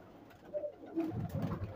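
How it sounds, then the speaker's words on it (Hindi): Indian pigeons kept by a hobbyist near the Pakistan–India zero line border give a few soft, low coos in close succession, heard close up with no talking. "माशाल्लाह, बहुत अच्छे कबूतर हैं"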